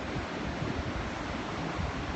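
Steady surf of ocean waves at Laguna Beach, a continuous broadband wash with soft swells and some wind, heard alone without voices.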